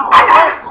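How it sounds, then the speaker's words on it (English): A dog gives a short, loud, close burst of barking and yipping with a whining edge, lasting under a second and heard on its own without talk. "here's the other dog"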